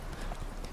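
Hooves of Roach, Geralt's horse in The Witcher 3, clop in a quick muffled rhythm, close and steady for a brief moment with game ambience underneath.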